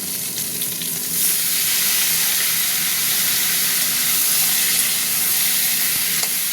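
Cut tomatoes and potatoes fry together in a pan with a loud, steady sizzle. The sizzle swells after the first second and holds there with a few soft stirring knocks, and no one talks.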